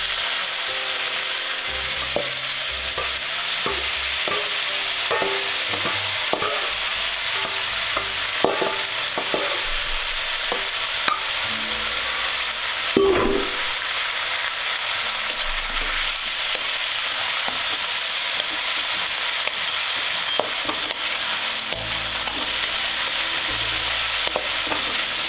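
Banana flower curry (mochar chorchori) with green chilli frying in a pan: a steady close sizzle runs throughout, broken by frequent scraping and clattering stirring strokes. No one speaks.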